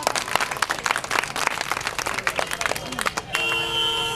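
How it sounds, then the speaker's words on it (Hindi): Loud, dense applause from a crowd welcoming a speaker at a Bahujan Samaj Party rally in Shamli, clapping for about three seconds before giving way to a steady, sustained tone. "मैं चाहूंगा आप जोरदार ताली से उनका स्वागत करें"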